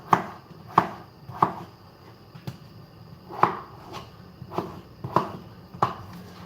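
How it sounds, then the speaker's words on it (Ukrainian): Knife chopping potatoes on a board while cooking borscht: sharp, evenly spaced cuts, about ten in six seconds, close and fairly loud over a quiet kitchen hum. "картоплю трошки натискаємо, нарізаємо"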